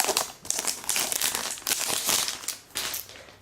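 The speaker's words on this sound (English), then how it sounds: "Peel off the plastic." Protective plastic film is peeled off a new 11.6-inch MacBook Air, a close, continuous crinkling and crackling rustle with brief dips over a few seconds, heard alone without talk.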